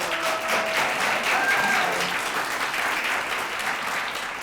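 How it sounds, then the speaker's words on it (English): Graduation audience applause for eight graduates, a steady wash of many hands clapping at moderate distance, filling the whole stretch. "can we give a round of applause, please"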